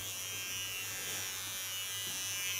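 A small electric hair clipper trims short silver-gray hair during a pixie cut, a faint, steady high-pitched buzzing held close throughout without speech.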